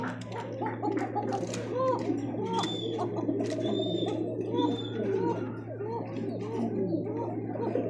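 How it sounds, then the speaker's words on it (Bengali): Pigeons in a fancy-pigeon sale loft keep up a continuous bubbling, gargling coo that overlaps itself with no pause, under a steady low electrical hum and some faint background chatter. "শালিক ককা যাকে বলে ডাক তো শুরু করছে আর তো থামেই না ভাই"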